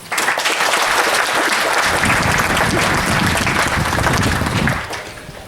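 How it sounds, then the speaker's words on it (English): A crowd at a cooperative's annual meeting applauds the candidates and the board, a dense, steady round of clapping that holds evenly for several seconds before tapering off near the end. "all the candidates, the entire board, one more round of applause."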